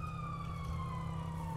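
A border police car siren in the FiveM driving game, a steady wailing tone sliding slowly downward over a low engine rumble, heard alone and fairly close.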